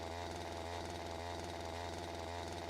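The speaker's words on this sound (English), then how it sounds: "Despite there being a closed door, the chainsaw is still at top volume." A chainsaw in the horror video game The Last Patient drones steadily behind a closed door, its engine pulsing in a regular rhythm at constant volume, with no voices over it.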